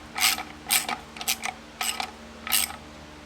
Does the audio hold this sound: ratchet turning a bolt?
yes